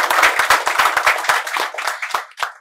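An audience at a Ganpati home-decoration competition prize ceremony claps for an honoree, a brisk burst of close, crisp handclaps that thins out toward the end.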